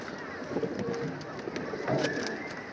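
Pigeons in a pigeon loft give soft, low cooing calls that repeat and overlap close by, with a few sharper chirps and fluttering noises.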